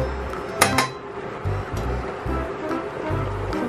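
Chili ingredients, including salt and meat tenderizer, are stirred in a pot, with a spoon clinking against the metal and a soft, wet churning in short repeated strokes.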